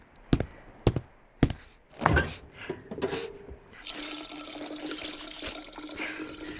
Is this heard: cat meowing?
no